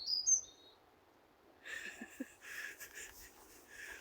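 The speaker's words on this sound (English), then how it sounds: "I think he's a finch" A finch perched high in a tree gives a few thin, high chirps, distant and faint, followed by quieter rustling and breathy noises close by.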